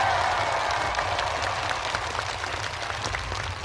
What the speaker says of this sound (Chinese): 我请咱们现场的观众把掌声先给我们的小助手